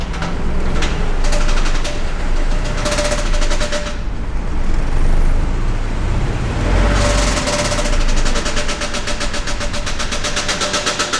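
A Chevy C10 donor truck's engine runs loud and close, a rough, rapid pulsing rumble with a steady staccato beat that dips briefly midway and then swells strongly again.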